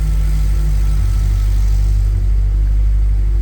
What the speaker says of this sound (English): But, no excessive valve train noise, I don't think, for an LS engine. Relatively quiet.